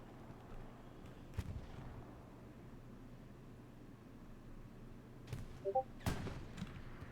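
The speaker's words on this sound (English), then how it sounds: "That artillery is brutal." Artillery fire in a video game: a few faint, distant booms over a steady low rumble, spaced several seconds apart, with no talking.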